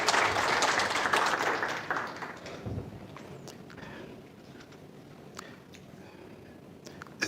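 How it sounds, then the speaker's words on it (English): An audience at an annual general meeting applauding, a burst of clapping that is loudest at the start and fades over a few seconds, leaving a low murmur of room noise. "Hand of applause for him."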